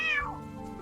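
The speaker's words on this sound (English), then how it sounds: "Oh, you silly cat chasing the wind again." A cat lets out a single clear meow that falls in pitch, close by and alone, fading into quiet.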